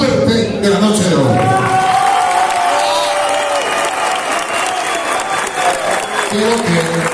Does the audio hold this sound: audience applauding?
yes